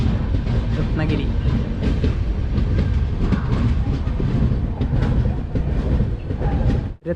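The Mandovi Express rolls into Ratnagiri station on the Konkan Railway during the monsoon, a loud, continuous rumble of carriages with rhythmic clickety-clack of wheels over the rails.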